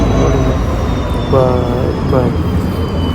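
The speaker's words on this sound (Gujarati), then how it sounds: "આપણે જોઈએ રેલવે આવી ગઈ છે" A train rolls past a railway crossing with a loud, steady rumble of cars and wheels, two short tonal horn or squeal bursts rising above it midway, and voices faintly present.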